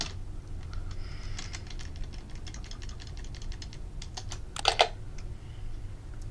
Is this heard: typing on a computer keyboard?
yes